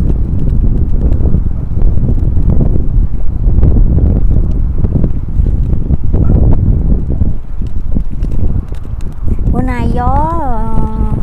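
Cold autumn wind buffets the microphone outdoors at the seashore while fishing, a loud continuous roar, with a person's voice speaking and a brief rising-and-falling tonal sound near the end.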